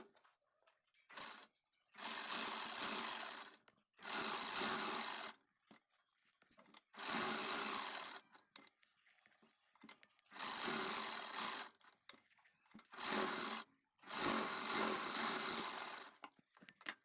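A sewing machine stitches the back neck of a blouse in five bursts of a few seconds each, with quiet pauses between them. The whir is steady and close.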